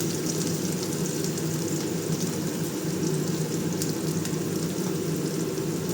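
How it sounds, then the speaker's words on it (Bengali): Onion lightly frying in a pan while being stirred, a steady close hiss running without pause, no voices. "পেঁয়াজটা বেশি ভাজবো না, একটু হালকা নেড়ে নিয়ে"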